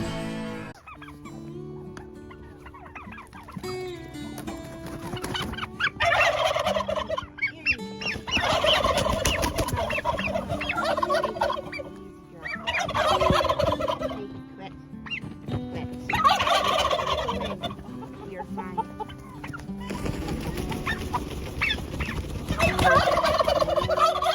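A crowd of turkeys and other fowl gobbling and calling nonstop in a close, noisy winter farm pen, the loud bursts of gobbling coming in repeated waves.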